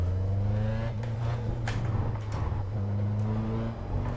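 Race car engine in the iRacing simulator, a steady droning tone with harmonic bands dipping and shifting as the car brakes hard into a corner, close and continuous with no talk.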